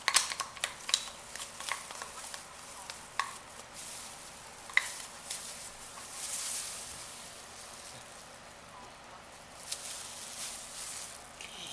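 Alcohol colour being stirred into cooling melted clear glycerin soap base, faint scraping and clicking of a utensil against a container, irregular and close, with no talking.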